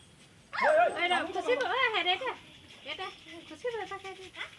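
A dog gives a close run of yelping barks and whines, loud at first and then in shorter, scattered bursts.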